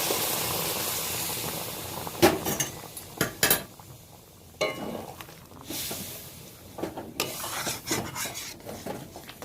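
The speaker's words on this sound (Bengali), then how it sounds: "এই যে আমি গরম জল দিয়ে দিচ্ছি।" Hot water goes into a cooking pan and a utensil stirs and scrapes the metal, giving irregular clinks and rubbing strokes, near and fairly quiet, with no talking.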